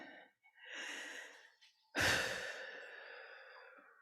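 At a Unitarian Universalist Remembrance Sunday service, a slow, deep inhale is followed by a sharp, loud exhale, heard close and alone in a quiet room.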